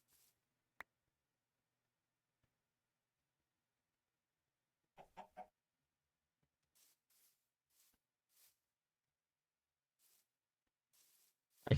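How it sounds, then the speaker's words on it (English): A Minecraft chicken gives a few soft, brief clucks in a quiet game scene, set apart by near silence and small scattered clicks. "I hear a chicken somewhere."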